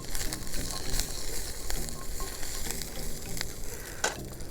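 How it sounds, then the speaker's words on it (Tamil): Jackfruit seeds fry in a pan, with oil sizzling steadily and spoon stirring scraping in loose rhythmic strokes, close and moderately loud with no talking. "ஸோ இந்த டைமில் நம்ம ஒரு பலாக்கொட்டையை ஆட் பண்ணிக்கிறோம்."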